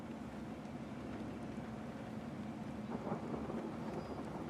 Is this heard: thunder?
yes